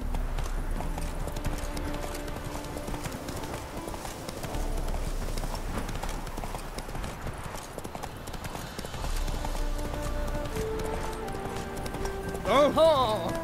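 Roach the horse's hooves clip-clop steadily at a walk in The Witcher 3, close and continuous over game music and ambience, with a brief louder burst near the end.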